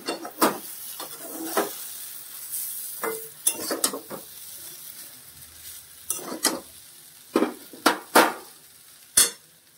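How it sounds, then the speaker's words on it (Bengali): Food is stirred in a sizzling pan after vinegar is added, with irregular scraping and clinking strokes of a utensil over a soft background sizzle, close and intermittent. "একটু ভিনিগার দিচ্ছি, একটু নেড়ে নেড়ে নিই।"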